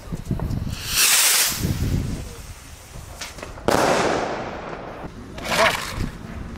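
Fireworks rockets at a New Year's Eve celebration launch and burst, with loud whooshing hisses and crackling bursts in several waves, a few nearby and dominant over the background.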